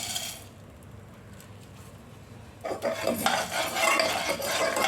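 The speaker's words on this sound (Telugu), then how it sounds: "ఇప్పుడు మళ్ళీ ఒక టేబుల్ స్పూన్ ఆయిల్ వేసుకొని చెనపప్పు అవన్నీ వేపుకోవాలి" Chana dal and urad dal stirred in a tablespoon of hot oil for a curry leaf pickle: a quiet scraping start, then a louder, fuller frying hiss with stirring through the second half.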